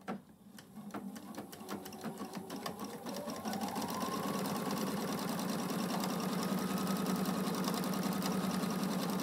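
A sewing machine running a default-width zigzag stitch along a flexible seam before bias tape is added: a steady, close mechanical whir that starts slower, then settles into a continuous fast hum with rhythmic needle ticking.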